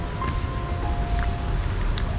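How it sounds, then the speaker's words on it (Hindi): Steady broadband rush of a waterfall heard from nearby during an outdoor adventure walk, loud and continuous with no other clear sounds. "आवाज आ रहा है झरने का।"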